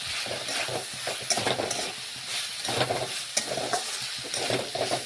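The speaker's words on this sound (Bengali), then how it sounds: "এখন আমি আবারও নাড়াচাড়া করে নিচ্ছি, আবার একটু আলু গাজর রান্না করে নিচ্ছি।" Potatoes and carrots fry in a pan while being stirred, giving a steady close sizzle and hiss. Repeated scraping stirs and light clinks of the utensil against the pan cut through it, with no voices.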